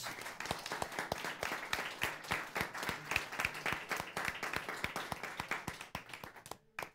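An audience at a security panel event in Visby applauds the panel, dense clapping at moderate distance that holds steady and then thins out near the end.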